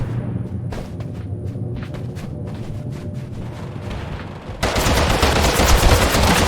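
Rapid gunfire in the shooter game Totally Accurate Battlegrounds, bursts of shots crackling steadily before a sudden louder, denser barrage of fire takes over near the end, with no talk.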